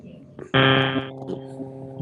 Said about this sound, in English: That's somebody's phone.